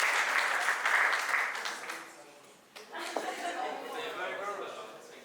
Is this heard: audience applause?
yes